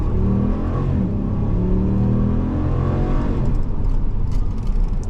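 A Ram 1500 pickup truck accelerates steadily, its engine note rising in loud, continuous revs heard from inside or close by, with no talking.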